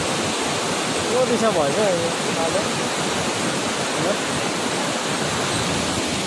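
Swollen river after heavy rain, rushing loudly below a bridge in a steady broadband roar, with brief speech over it.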